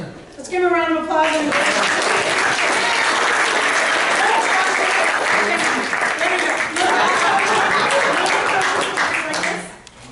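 An audience bursts into loud, sustained applause lasting several seconds before fading, with a brief voice heard at the very start.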